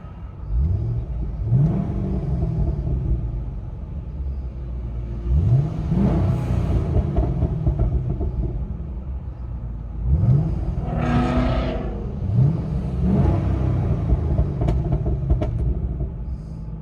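A deep 6.2L V8 engine in a 2015 Chevy SS with an X-pipe exhaust revs repeatedly, heard from inside the cabin, rising and falling in rumbling surges with a steady low idle between them.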